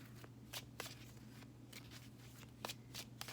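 Tarot cards being shuffled in quick bursts of crisp riffling and flicking, close and quiet over a low steady hum, with no voices.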